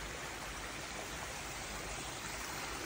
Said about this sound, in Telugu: ఇంకో వాటర్ ఫాల్ వచ్చింది, బ్యూటిఫుల్ ఉండే.